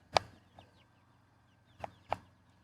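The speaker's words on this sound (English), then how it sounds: "Take a look at some of these chickens." A few chickens in a chicken tractor on a farm give four short, separate clucks across a few seconds, close by against a quiet background.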